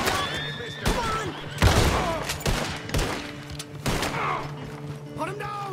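Gunshots in Red Dead Redemption 2 during a jailbreak, several sharp cracks spaced through the scene amid horse whinnies and shouting voices, fairly close and mixed with game sounds.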